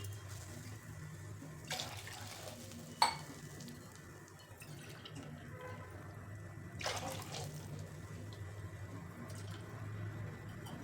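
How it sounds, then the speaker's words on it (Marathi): Several cups of water poured into a cooking pot, heard as a few short splashing pours against a quiet, steady kitchen hum, with no speech. "तर हे पाच कप पाणी घातलेले"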